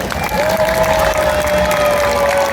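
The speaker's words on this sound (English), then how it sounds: "even the sound of your applause is a great reinforcer" Spectators at a seal and sea lion show at Hershey Park clap and cheer loudly for a California sea lion, a brief dense burst of crowd noise with a sustained whistle-like tone running through it.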